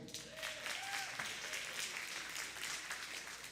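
Audience applause at a Seattle Colleges government-to-government event, a steady wash of clapping that holds at an even level for several seconds, with a few faint voices underneath.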